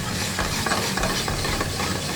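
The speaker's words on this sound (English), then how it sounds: "we'll take our tomatoes. Okay. Those are just split cherry tomatoes, heirloom tomatoes. Beautiful. And we'll take and saute those up a little bit." Split cherry and heirloom tomatoes sauté in a hot pan, giving a loud, dense, continuous sizzle with faint stirring scrapes, near and unbroken, without talking.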